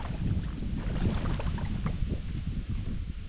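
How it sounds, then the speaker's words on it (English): A canoe is paddled across open water, with steady wash and sloshing under a constant wind-buffeted rush. No distinct strokes stand out. "Now we do a canoeing."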